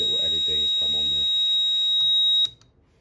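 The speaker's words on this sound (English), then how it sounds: "As you can see, zone 1's in alarm, and the little LED has come on there." A CMR LD4-2V leak detection system sounds a zone alarm: a steady, piercing electronic tone holds for about two and a half seconds, then cuts off abruptly. Someone talks over its opening moments.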